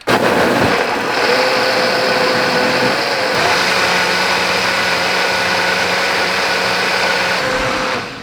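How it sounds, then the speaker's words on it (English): A blender making hot sauce whirs steadily and loudly on medium setting at close range, a constant droning hum that holds for several seconds before cutting off. "you can leave this blender going on medium setting for about 2-3 minutes"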